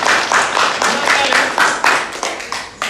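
A group in a lesson setting claps in a burst of applause, with uneven swells that fade toward the end. Voices are faintly present under the clapping.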